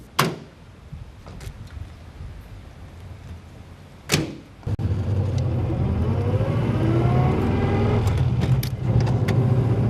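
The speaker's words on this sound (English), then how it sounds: "driving along merrily. The car was made in Bradford, 1952." A vintage 1952 car built in Bradford: a couple of sharp door thuds, then the engine starts and runs steadily close by.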